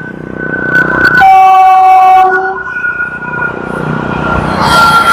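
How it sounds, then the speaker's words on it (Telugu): A train passes beside a road at sunset, heard from a motorbike ride between Hyderabad and Warangal, with a loud steady rumble and a sustained horn blast, rising wind and engine noise toward the end. "పక్కనే ట్రైన్ వస్తున్నది."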